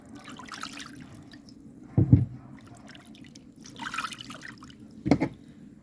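Water from a tap splashes and trickles as a yellow yam is rinsed for Jamaican red peas soup, with two louder bursts of pouring and splashing over a soft background trickle.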